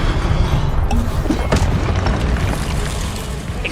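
Incendio fire spell exploding in Hogwarts Legacy, with deep booming blasts and crackling impacts layered over dense, continuous combat noise.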